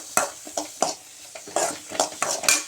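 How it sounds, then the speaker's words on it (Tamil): Onions and garlic stirred in a pan for a tomato kurma, with a series of short, close scraping and clinking strokes of a spoon against the pan, spaced irregularly and fairly faint. "வெங்காயத்தையும் பூண்டையும் போட்டு நல்லா வணக்கிடுங்க"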